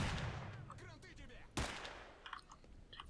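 Gunfire in StalkerSoup, a hard Stalker game mod, with a sharp close shot midway among fainter bursts and rattles, while a voice talks over part of it.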